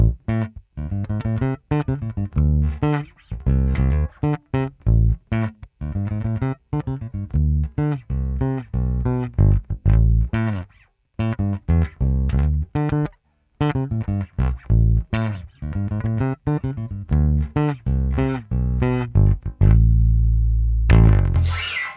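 Limited edition Fender Antigua Jazz Bass played with the neck pickup soloed and tone fully open, a busy run of plucked notes with a brief gap midway and a sustained final note ringing out.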